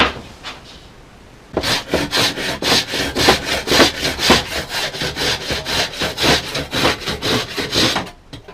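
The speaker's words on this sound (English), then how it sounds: "So I'll just cut these to length." Hand saw cutting wooden bed cross slats to length during a bed repair, a steady run of rhythmic back-and-forth strokes, close and loud, after a quiet start.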